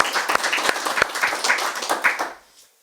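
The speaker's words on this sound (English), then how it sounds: "Let's give her one more round of applause" A studio audience applauds after a singer's performance on a music show, a steady patter of hand claps with a few sharp individual claps standing out, fading to silence near the end.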